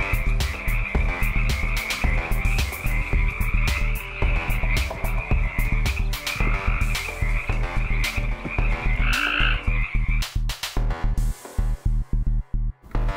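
A dense chorus of frog croaks pulses loud and steady for most of the stretch, then breaks into sparser calls near the end; the frog is a poison arrow frog.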